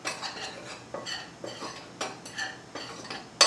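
Garlic salt being mixed into biscuit dough ingredients in a bowl, a series of soft rhythmic scrapes and light clinks of a utensil against the bowl, close and fairly quiet, ending with a sharper clink, no voices.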